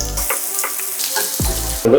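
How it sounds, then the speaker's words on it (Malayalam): Ginger and garlic sauté in oil in a pan, a continuous crackling hiss, close and fairly loud, with a brief stirring scrape near the end. "നമ്മൾ ആദ്യം പൊട്ടിക്കുന്ന ഇഞ്ചിയും വെളുത്തുള്ളിയാണ് ആദ്യം എണ്ണയിലിട്ട് സോട്ട് ചെയ്ത്"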